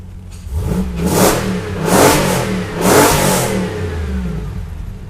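The 6.4-litre HEMI V8 of a 2020 Jeep Gladiator revs hard three times, loud and close, with each throaty surge swelling and falling back between blips and no talk over it.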